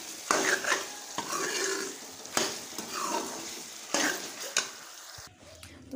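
Chicken shashlik mixture being stirred in a pan, a spoon scraping and clinking against the metal in repeated strokes over a soft frying sizzle, close and fairly loud.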